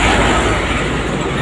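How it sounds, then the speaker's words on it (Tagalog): A big truck rolls past amid steady road traffic, a dense, loud rumble with broadband road roar holding evenly throughout. "Laking truck."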